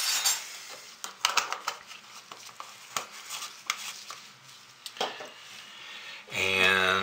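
Mica is stirred by hand into soap oils in a pot for hot process soap, giving irregular close clinks and scrapes of a utensil against the pot, ending with a short louder whir.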